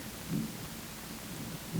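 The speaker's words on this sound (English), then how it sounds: "Did you guys hear that thunder?" Low rumbling thunder rolls faintly in the distance outdoors in New York, a soft, steady murmur with a slight swell near the start and no voices over it.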